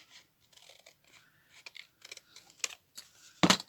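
Scissors cut paper book pages down to size, giving a string of quiet, crisp snips and rustles close by, spaced unevenly, with the last cut the sharpest and loudest.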